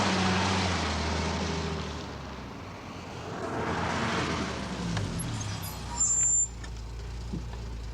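A jet aircraft on final approach sounds as a steady broadband roar under a low engine hum, with a brief brighter whine near the end.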